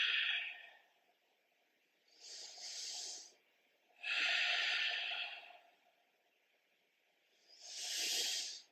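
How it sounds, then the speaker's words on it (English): Deep yoga breaths drawn in and pushed out through the nose, four long airy hisses, each lasting over a second, separated by quiet pauses, close and alone. "Inhale and exhale."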